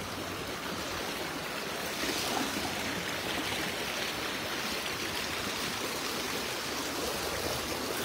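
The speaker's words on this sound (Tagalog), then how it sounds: "Medyo malakas po yung agos." A strong river current flows at night where fishermen work, a steady, dense rushing wash of water that stays even and fairly loud throughout, with no voices.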